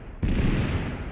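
A quick burst of gunfire in the video game TABG erupts after a brief quiet moment, loud, dense and rapid like automatic fire, with no voices over it.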